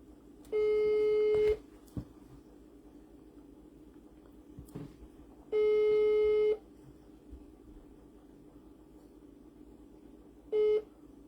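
Telephone busy signal on a call, three loud steady tone bursts about a second long with long gaps between, over faint background hiss and occasional clicks.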